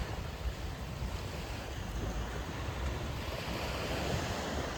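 Waves wash steadily onto a small beach in Malaysia, a broad continuous surf roar mixed with wind buffeting the microphone, with no distinct individual breakers.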